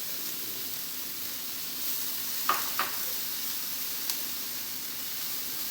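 Mushrooms hit a hot frying pan, setting off a steady, hissing sizzle broken by a few sharp crackles and pops, close and moderately loud with no voices.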